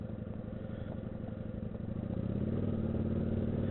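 A cruiser motorcycle rides through corners, its engine giving a steady low throb that swells louder toward the end as the rider rolls on the throttle, with no talk over it.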